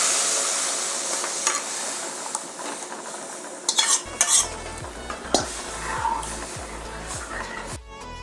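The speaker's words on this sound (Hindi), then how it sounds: "अब इसे मैं बघार में डालूंगी।" A batter of urad dal mixed with curd is poured into hot tempering for a kadhi, setting off a loud sizzle and frying hiss, followed by steady stirring with a utensil scraping and clinking against the pan.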